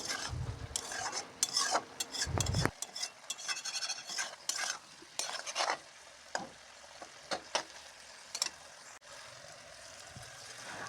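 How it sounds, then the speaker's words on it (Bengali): A spatula scraping and stirring ridge gourd and potato curry in a pan, with irregular clatters and light sizzling, fairly quiet and close, no talking. "এখন নাড়াবো"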